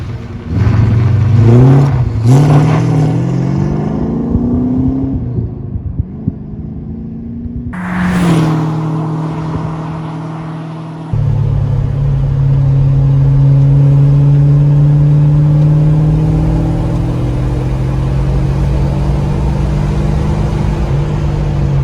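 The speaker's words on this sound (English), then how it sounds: "we're going for a drive" A car drives off and accelerates, its engine loud and close, the pitch climbing through revs, dropping at a gear change and building again, with no talking.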